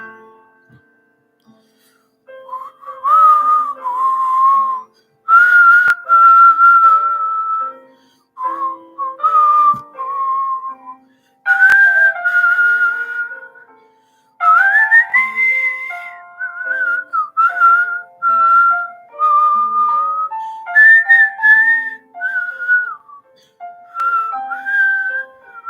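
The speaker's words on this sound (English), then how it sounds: "I'm going to whistle if you want to hear me." A person whistles a melodic tune, loud and close, in phrases of sustained and sliding notes separated by short pauses.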